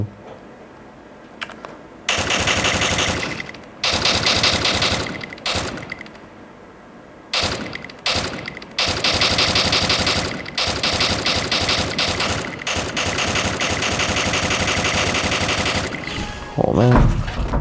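Machine guns fire in the mobile shooter game Free Fire, in loud, rapid sustained bursts broken by short pauses, with a player's voice in places.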